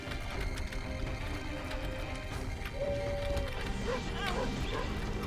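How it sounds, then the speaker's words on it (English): A dog barks and yips repeatedly at a distance in The Binding of Isaac: Afterbirth+ over a dense, busy background of game mechanical noise and tones. "why is the dog barking that much?"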